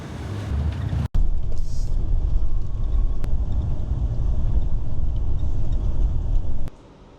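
Steady, loud low rumble of a comfortable Mexican bus travelling by road in hot, humid southern Mexico, with wind noise, a brief dropout near the start and a drop in level at the end.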